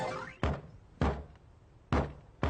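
Knocking on a door in a Doraemon movie: four loud, sharp knocks in an uneven pattern, each ringing briefly, with quiet room tone between them and no talking.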